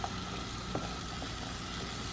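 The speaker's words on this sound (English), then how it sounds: "So I'm gonna saute my onion and carrots in this butter." Onion and carrots sauté in melted butter, giving a soft, steady sizzle with faint stirring clicks throughout, close and quiet with no talking.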